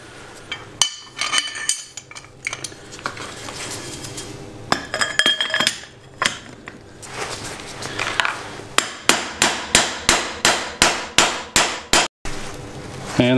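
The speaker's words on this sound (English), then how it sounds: "Set the pipe over the top and use that to tap it home." A hammer taps a pipe to drive a bearing home on a Suzuki GSX600F Katana motorcycle. The blows are close and metallic, scattered at first, then a steady run of evenly spaced strikes near the end.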